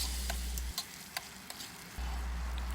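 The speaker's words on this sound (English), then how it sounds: "Next item is garlic. And into the pot, cook for about another minute." Garlic cooks in a pot over a camp stove, a soft sizzle under a low burner hum, with a few light stirring scrapes and clicks.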